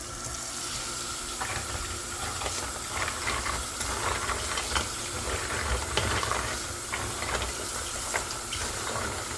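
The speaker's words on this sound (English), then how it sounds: "We're gonna rinse these with cold water." Clams are rinsed under a cold running kitchen tap, making a steady rush of water with scattered small clicks and clatters from the shells.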